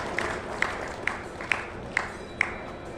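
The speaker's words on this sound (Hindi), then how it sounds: "कर्नल कृष्ण चंद्र मिश्रा जी के लिए जोरदार तालियां हो जाएं" Applause for a farmer receiving an innovative farmer award at a ceremony, heard as a faint, steady crowd wash with a few sharp claps standing out at regular intervals.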